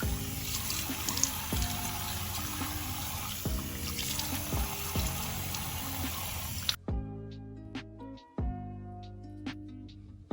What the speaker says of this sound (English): I'm just going to go ahead and rinse.